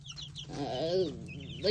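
Chickens cluck close by, with a drawn-out wavering call in the middle and several short clucks before and after it, over a low steady background hum.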